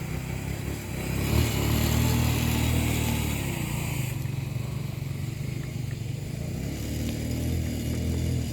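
A Barako motorcycle engine runs nearby with a steady mid-pitched drone, swelling slightly after a moment and holding at an even idle throughout, with no talk over it.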